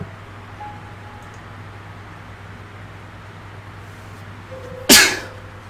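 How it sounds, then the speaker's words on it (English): A single sharp sneeze cuts through a steady low hum of ambient noise in the horror adventure game Scratches, short, loud and close. "Sneeze."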